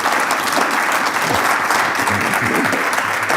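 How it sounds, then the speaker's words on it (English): An audience at an evening CFA Society event breaks into sustained, dense applause that fills the room from start to finish. "I think a round of applause"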